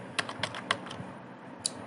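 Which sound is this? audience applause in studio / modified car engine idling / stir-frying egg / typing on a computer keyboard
typing on a computer keyboard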